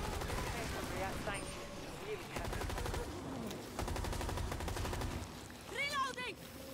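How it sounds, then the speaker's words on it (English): Gunfire in Rainbow Six Extraction, rapid automatic bursts rattling through game noise, with creature shrieks and a voice over the shooting. "it's shooting me through the wall"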